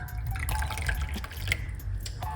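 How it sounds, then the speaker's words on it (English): Hot water streams steadily into a cup at close range, a continuous liquid pour with light splashing. "I finish, top it up with hot water."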